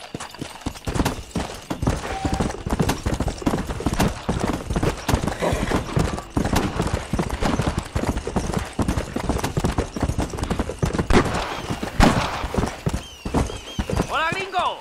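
Horse hooves clip-clop at a steady gallop in the Red Dead Redemption video game, with a horse whinny and game sound layered over a continuous busy mix, and someone talks over it throughout.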